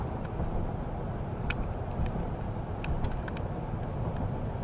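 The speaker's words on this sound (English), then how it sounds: "Definitely more road noise than, say, a sedan or a Suburban or something like that." Steady road noise fills the cab of a 2018 Chevrolet Silverado 1500 Crew Cab LTZ pickup on the move, a constant broadband low rumble with faint light ticks and no voices.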